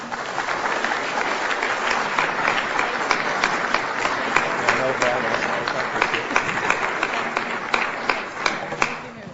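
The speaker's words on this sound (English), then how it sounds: "please give them another round of applause" A meeting audience applauds the helpers at a 2010 business meeting, a dense steady patter of many hands clapping, fairly close and continuous throughout with no talk over it.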